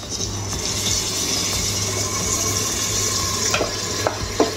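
Chicken with masala frying in a pan for a quick pressure-cooker biryani, giving a loud, continuous close sizzle with occasional stirring scrapes and clicks toward the end.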